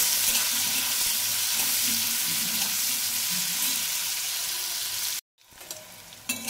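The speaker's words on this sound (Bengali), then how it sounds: "তো পটল ভাজা হয়ে গেছে, এবার আমি পটলগুলো উঠিয়ে নেব।" Pointed gourd (potol) pieces with salt and turmeric frying in a pan, a loud dense sizzle with stirring that cuts off abruptly into brief silence before quieter kitchen sounds return.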